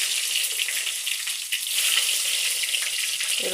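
Onions crackle in hot oil with mustard seeds, a dense continuous hiss of bright sizzling heard close and alone, with a soft stirring scrape at the end.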